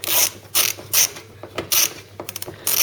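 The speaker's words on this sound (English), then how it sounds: "It's handy to have one of the little mini socket sets as well as your big socket set." Ratchet socket wrench loosening an 8mm bolt on a Ford Cortina Mk3 under restoration, heard as quick repeated clicking bursts, close and alone with short pauses between strokes.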